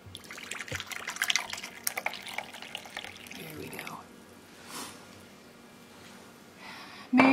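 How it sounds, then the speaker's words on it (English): Brewed Turkish Delight tea pouring into a teapot at a holiday tea demonstration, a close trickling stream splashing for several seconds before tapering off into quieter drips, with a brief clatter at the end. "we're going to pour the Turkish Delight into here"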